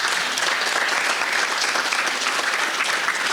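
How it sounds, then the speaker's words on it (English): A dense, even round of applause from a festival roundtable audience, loud and sustained with no break, clapping filling the whole stretch. "Please all join me in a round of applause for our panelists."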